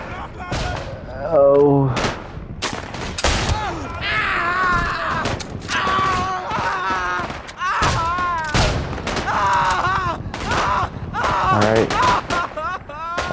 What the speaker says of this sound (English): Oh, that's a grenade. That's a grenade.